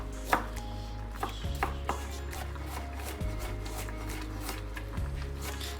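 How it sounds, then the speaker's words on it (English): A knife chops cauliflower on a cutting board in a home kitchen, with a few sharp taps spaced out over a steady low hum, close and fairly quiet, without talk. "You're just gonna chop it up."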